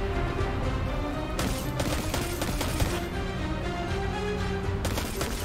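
Dense, continuous gunfire in Destiny 2, rapid overlapping shots and bursts filling the whole stretch at steady loudness with no speech over it.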